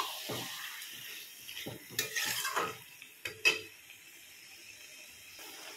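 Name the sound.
stirring chicken meat in a pan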